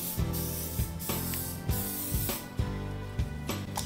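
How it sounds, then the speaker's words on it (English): Nonstick butter spray hisses onto a griddle in several short bursts, close up and fairly loud, with no voices. "now I'm gonna spray my griddle with a little bit of nonstick butter spray"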